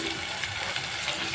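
Boiled corn kernels sauté in hot melted butter in a pan, giving a continuous close, hissing sizzle with no talk over it.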